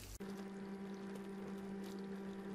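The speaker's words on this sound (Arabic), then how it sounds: "نقوم بخلطه باستعمال الماء" Water poured to mix white cement or plaster, a steady close trickle and gurgle with a low resonant tone, quiet and continuous after a brief bump at the start, no talk.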